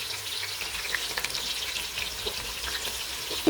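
Egusi soup fries in a pot over low heat, producing a steady soft sizzle with faint crackles and pops, close and moderately quiet, with nobody talking.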